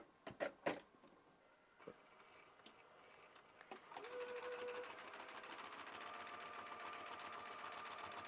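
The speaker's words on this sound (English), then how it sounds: "We're going to stitch a 1/4 inch away from our line on either side." A sewing machine stitching a quilt block, starting with a few scattered clicks and taps, then running in a steady, fast whirring hum with rapid needle chatter for the remaining seconds, close and moderately loud.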